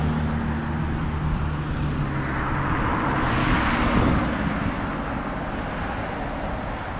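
An unmuffled car exhaust roars loudly and steadily along a street in Lewiston, Maine, a low growling drone that swells briefly as it passes and then fades, heard outdoors from a walking position.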